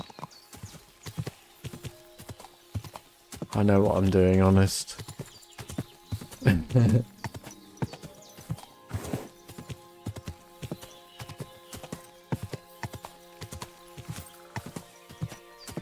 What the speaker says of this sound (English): Ignore my wild horse ride.